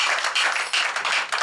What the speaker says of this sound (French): Applaudissez pour la reine-mère,